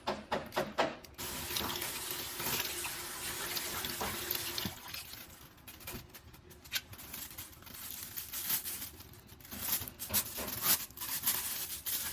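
A kitchen tap runs steadily into a sink while seafood is cleaned, a loud continuous splashing stream with small shifts in the flow and brief clatter near the start.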